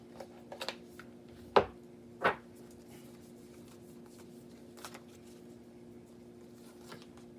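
Tarot cards being shuffled during a reading, a few brief riffling bursts and taps, the strongest two near the start, then quiet with faint steady hum behind.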